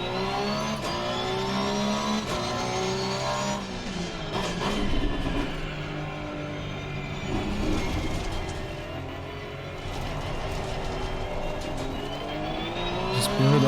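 A Porsche 911 GT3 R race car on the Spa circuit in the Assetto Corsa Competizione sim, its engine droning loud and close, revving up and down through gear changes at a moderate pace with no talk.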